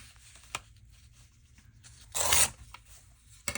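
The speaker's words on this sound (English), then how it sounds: "I'm going to cut this up in a bigger piece here and then cut it down." Paper cut with scissors for a collage, heard as a few sharp snips and one longer rustling cut in a quiet room, close by.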